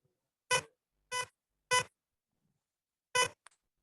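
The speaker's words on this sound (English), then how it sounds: "it will generate a sound with a pitch of 500 for 100 milliseconds" A small buzzer set to a pitch of 500 sounds four short, loud beeps of about 100 milliseconds each, three evenly spaced and one after a pause, with nothing else around them.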